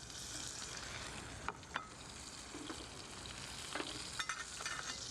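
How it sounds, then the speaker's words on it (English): Tuna pieces are tossed in a hot pan with lemon juice instead of oil, giving a bright continuous sizzle broken by a few sharp scraping and clattering knocks. "let's then just toss that around, just like you would if you were doing it in oil, but we're using lemon juice instead"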